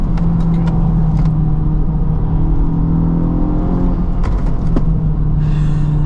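A 2023 Honda Civic Type R in +R mode with its exhaust valve open, heard close as a steady droning engine and exhaust note that rises slightly under load, with a few light clicks and whirs.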